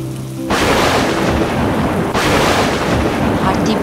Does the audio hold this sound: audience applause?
no